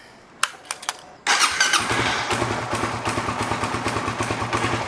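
A stock Suzuki Satria underbone motorcycle cranks with a few short ticks, then its engine catches and settles into a close, steady, pulsing idle.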